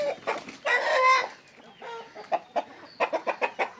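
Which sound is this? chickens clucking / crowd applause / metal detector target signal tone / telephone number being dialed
chickens clucking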